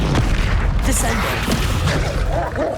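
Descendo spell cast in the Hogwarts Legacy video game, a heavy magical boom amid busy, continuous game sound effects and impacts.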